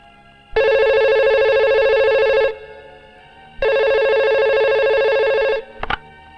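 A telephone rings at night in a Hindi crime film, two long loud electronic ring bursts separated by a pause, followed by a brief click as the call is picked up, with no talk over it.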